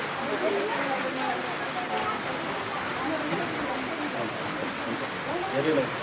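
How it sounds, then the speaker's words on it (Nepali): Steady rain with hail falling during an outdoor wedding ceremony in Nepal, a continuous patter and hiss throughout, with faint voices underneath. "पानी परिरहेको छ असिना झरिरहेको छ"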